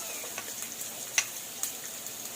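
Pre-cooked pork being stir-fried in a pan for pork binagoongan, a soft steady sizzle with scattered light clicks of a utensil against the pan, quiet and close.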